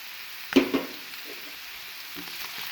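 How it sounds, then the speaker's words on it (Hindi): Pizza cutlet mixture fries in a pan with a soft, steady sizzle, punctuated early by a couple of sharp clatters as it is stirred, then settling into a faint crackle. "इसको 2 मिनट के लिए फ्राई करना है।"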